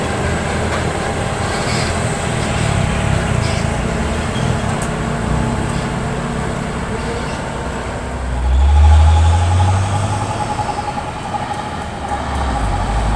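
Nissan Diesel truck hauling an excavator on a trailer rumbles past, a steady heavy engine drone with a deep low swell around the middle as it goes by, loud and close.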